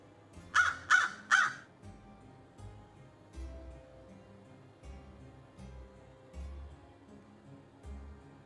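A crow gives three loud caws in quick succession, then the air goes quiet apart from low, intermittent rumbling in the background.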